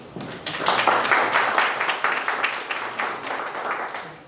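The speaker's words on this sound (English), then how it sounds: "I want you all to give yourselves a round of applause" Town hall audience breaking into sustained applause, dense clapping from many hands building quickly and holding steady, with no talk over it.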